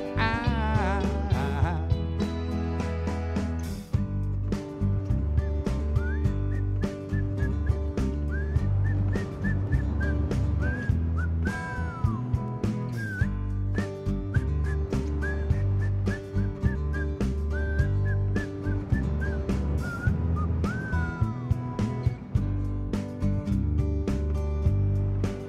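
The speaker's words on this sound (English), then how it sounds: "Single hardest part of that song is the whistling at the end." Someone whistles the closing melody of a song in clear, wavering phrases over steady instrumental backing, the tune rising and falling across repeated lines.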